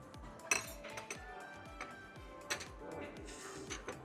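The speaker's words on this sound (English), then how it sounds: "Give it a stir." A spoon stirs Hong Kong style milk coffee tea in a glass, giving a string of light clinks and taps against the glass in an uneven rhythm, close and fairly quiet.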